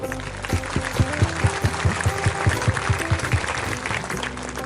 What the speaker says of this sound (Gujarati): હાથ ઊંચા કરી કપિલ સ્વામીને તાળીઓના નાદથી બધા વધાવો